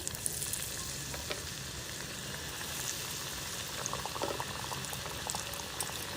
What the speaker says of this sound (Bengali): এটা হচ্ছে ম্যাক্সিমাম 7 থেকে 7-8 মিনিট ফ্রাই করলে হয়ে যাবে আমাদের চিকেনটা।